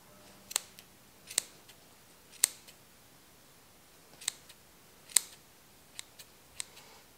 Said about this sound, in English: And then we're going to cut through each edge